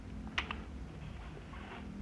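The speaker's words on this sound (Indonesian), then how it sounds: "silakan tekan tombol tab pada keyboard sekali saja" A tab key pressed on a computer keyboard, giving a pair of quick, light plastic clicks close by against a faint steady room hum, with no talking.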